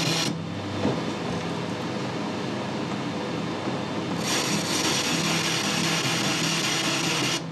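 A metal lathe chamfers the edges of a cast iron part, giving a continuous close grinding and whirring mechanical noise with a brightening of the cut partway through.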